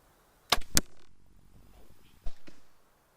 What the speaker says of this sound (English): I don't know if you heard it or not there, but just hit the fletching, which means that was a pretty good shot.